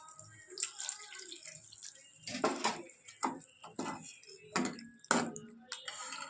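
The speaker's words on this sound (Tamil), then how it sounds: "இதுலேயே தேவையான அளவு தண்ணி ஊற்றிக்கலாம்" Water splashes and trickles in short bursts into a metal pan, with a few clinks and drips between pours, fairly close.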